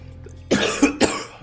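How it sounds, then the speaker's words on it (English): Two sharp coughs right into a microphone, close and loud, following a brief quiet moment. "God, I'm so sorry about coughing into the mic."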